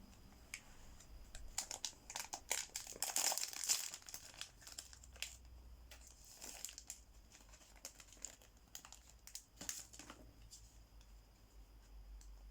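Foil wrapper of a Star Wars Destiny Spirit of Rebellion booster pack being opened by hand, with close, steady crinkling and sharp tearing bursts over about twelve seconds, a low hum underneath.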